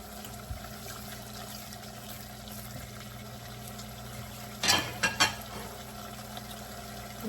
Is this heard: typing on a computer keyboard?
no